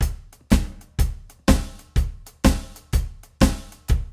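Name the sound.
drum groove with heavier backbeat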